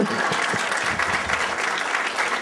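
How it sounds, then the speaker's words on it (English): Audience applause fills a hall at a regional business and civic forum in Torrance, Southern California, a steady dense wash of clapping from a large crowd lasting throughout without a break. "Go ahead and applaud yourselves."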